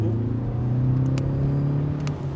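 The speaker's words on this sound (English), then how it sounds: "There's a second gear pull." An Audi TDI diesel with a stuck-lean oxygen sensor fault pulls in second gear, its engine drone holding steady and close with a slight rise in pitch, and no voices.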